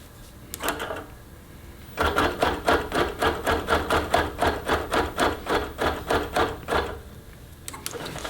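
A Q-Matic quilting machine stitches a final row in short bursts of fast, even mechanical clacking, one brief run, a pause, then a long steady run and another short start, loud and close.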